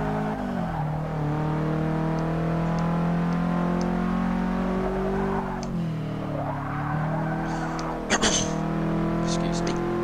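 A Subaru WRX engine drones and shifts pitch steadily while being driven in Forza Motorsport 6, with short brighter transient bursts near the end.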